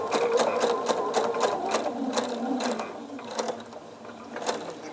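A sewing machine stitches a fabric basket liner with a steady mechanical whir and rhythmic needle ticking, slowing and easing off toward the end.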